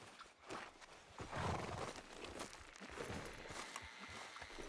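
Horse hooves clip-clop on the ground in Red Dead Redemption 2, a soft, steady walking rhythm heard faintly under ambient outdoor noise.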